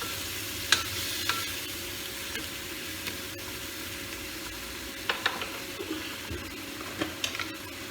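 Hot water trickles into a spice paste frying in a pan for a Bengali fish curry. A soft sizzle and bubbling run steadily, with a few sharper clinks and splashes scattered through, close up, and no talking.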